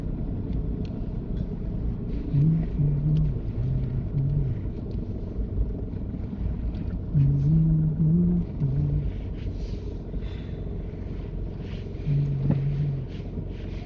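A car's engine idles and rumbles low and steady as it creeps forward into a parking bay during a driving test, with a constant muffled interior hum and faint intermittent tones over it, no talk.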